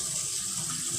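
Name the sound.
water running out of the sink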